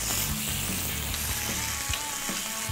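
Steak searing in a hot pan gives a steady, close sizzle and frying crackle throughout, with faint kitchen clatter and no talk.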